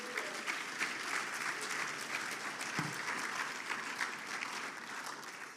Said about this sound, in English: So give Ryan another round of applause for that